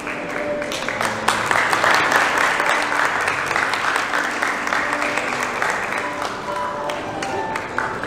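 Wedding guests clap steadily in a large hall as the bride and groom bow to their parents, a dense, sustained round of applause lasting throughout, with faint voices mixed in.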